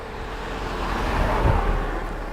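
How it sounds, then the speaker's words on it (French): Road traffic passing near the Menhir de Peïro Plantado in the Var, a steady broadband rumble that swells as a vehicle goes by around the middle and then eases off. "Il y a un petit peu de circulation"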